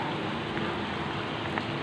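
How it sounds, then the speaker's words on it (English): Rain falls steadily outdoors as a dense, even hiss of drops, moderately loud and continuous, with no voices over it. "The rain is coming down."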